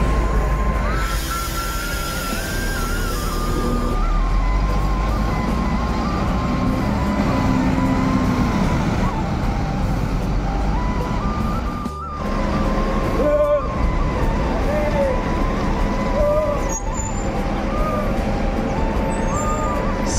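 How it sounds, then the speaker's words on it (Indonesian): A Sembodo bus pulls out of Kampung Rambutan bus terminal, its engine a steady low rumble with brief air-brake hisses, while people talk nearby over the busy terminal noise. "Sembodo, bus pertama yang akan meninggalkan terminal Kampung Rambutan teman-teman"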